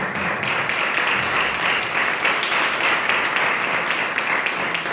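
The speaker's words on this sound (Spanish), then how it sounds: "Denle un aplauso al Señor." A church congregation applauds at a loud, sustained and dense level for the full stretch, a wide even wash of many hands clapping together.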